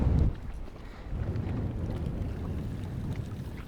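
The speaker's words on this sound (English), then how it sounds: "Oh, it's windy." Wind gusts buffet the microphone in a low, rumbling roar on an open lake while kayaking, loud at first, then easing to a steady blustery drone.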